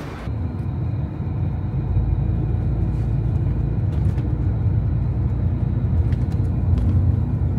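Shuttle bus interior near Olden, Norway, with a steady low engine rumble and road drone throughout, a few faint clicks and rattles on top, and no talking.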